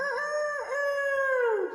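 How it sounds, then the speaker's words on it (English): A rooster crows once in a long, clear drawn-out call lasting nearly two seconds, loud and close with no other sounds. "We have the chicken rooster that crows every morning"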